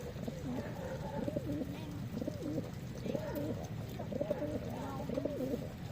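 Pigeons cooing nearby in repeated soft, throaty phrases with a steady rhythm, moderately quiet, alongside faint background voices.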